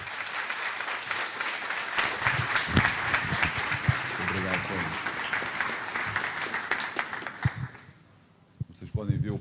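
An audience applauds a speaker at a corporate HR forum plenary session, with steady, dense clapping across most of the moment that fades near the end, after which someone briefly speaks.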